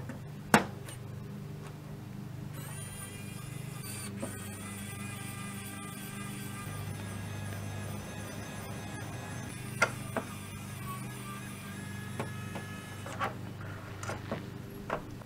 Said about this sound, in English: here's where the power screwdriver really comes in handy